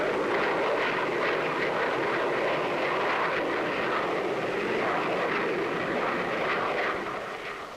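Delta-wing jet aircraft in flight, a steady, loud broadband engine roar that holds for several seconds before easing slightly at the end, with no voices.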